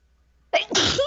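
A single sharp sneeze bursts out after a brief quiet moment, loud and close.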